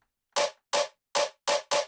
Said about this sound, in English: So the third snare sounds like this.